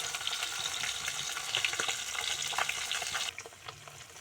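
Pieces of fish sizzle steadily in hot oil while being turned over, a dense crackling fry with a few scraping clatters from the flipping; the sizzle drops off sharply near the end, though a softer fry continues.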